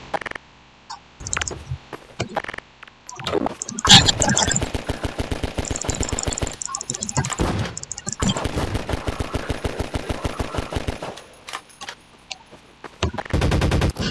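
Rapid, loud gunfire bursts in Garry's Mod, repeated fast volleys broken by short pauses, near and dominant over faint game noise.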